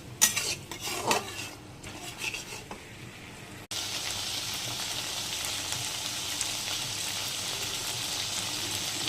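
Spice paste of ginger and green chilli being stirred and fried in a pan for a prawn and banana flower dish, a loud continuous sizzle after a few scraping stirs, with no talking.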